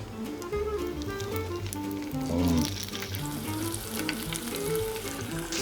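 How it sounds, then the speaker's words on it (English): Sausage and garlic sizzle and crackle steadily in a hot pan, a close, dense hiss with occasional stirring scrapes, quiet and without talk. "Once the garlic starts sizzling, I'm gonna start adding the sausage"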